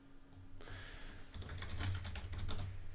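Rapid typing of a web search on a computer keyboard, a dense run of close, crisp key clicks that starts after a brief quiet moment and keeps going steadily to the end, with no talking.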